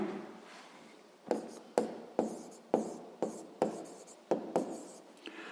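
Pen strokes scratching across paper during a sixth-grade math exercise, a steady series of short, sharp scribbles about twice a second, close and quiet with no talk.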